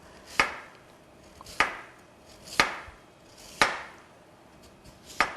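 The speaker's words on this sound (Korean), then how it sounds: "감자를 썰으실 적에는 4mm 정도 두께로 이렇게 썰어주세요." A knife cuts through raw potatoes on a cutting board into slices about 4mm thick, five crisp, evenly spaced chops about a second apart, close and clear with nothing else around them.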